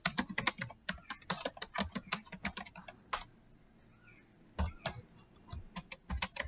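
Java code is typed on a computer keyboard in quick, close bursts of clicky keystrokes, a pause of about a second and a half, then a few more keys; no voices.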